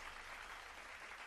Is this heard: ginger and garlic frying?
no